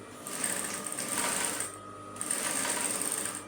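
Sewing machine running in two steady bursts while stitching a straight skirt, with a short pause between them; loud, close and alone, with no talk.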